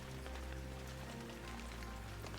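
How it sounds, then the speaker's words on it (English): Heavy rain pours down in Shenmue III as a dense, even hiss that holds steady and alone throughout. "Oh, it's raining."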